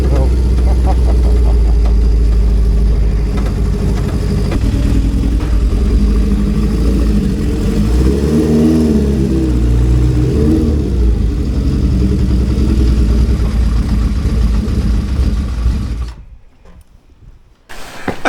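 Honda CB750 cafe racer motorcycle engine running with a low idle, a loud continuous rumbling drone with a brief rise in pitch midway, close up, then cutting off near the end.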